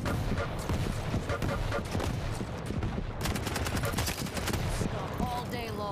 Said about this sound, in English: Some nice machine gun fire there just to deter Anarchy.